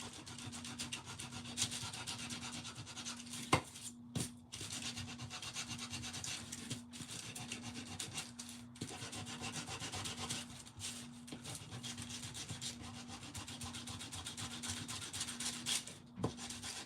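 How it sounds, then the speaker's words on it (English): Sandpaper rubbing over the edges of a primitive wooden Valentine's kissing booth craft, a steady close scratchy rasp of back-and-forth strokes with a few brief pauses and no speech. "I'm just going to sand over these edges here."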